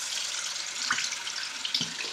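Hot water runs steadily from a tap into a sink, a continuous broadband splash with a couple of brief knocks, near and fairly quiet.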